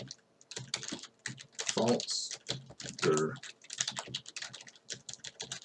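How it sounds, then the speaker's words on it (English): Rapid clattering keystrokes on a computer keyboard, close and busy, tapping in quick bursts while someone speaks over them. "I'm typing like a maniac here"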